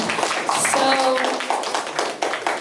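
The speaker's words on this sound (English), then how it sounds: "let's give them a round of applause once again" An audience at a student council presidential election event applauds the candidates: a steady, fairly loud wash of clapping that lasts throughout, with a few voices mixed in.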